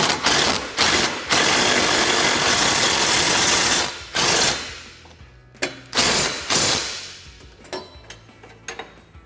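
Ratchet tightening bolts on a Kawasaki Teryx KRX 1000 rear bumper, heard as loud, close bursts of rapid clicking that come in short runs and then taper into lighter, scattered clicks.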